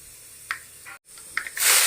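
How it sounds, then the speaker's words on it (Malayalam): Mustard seeds added to hot oil in a pan for a tapioca and fish curry, giving a soft spray-like hiss with a few brief crackling bursts, a short gap, then a louder sustained sizzle near the end. "ചൂടായ എണ്ണയിലേക്ക് കടുക് ചേർത്ത് കൊടുക്കാം."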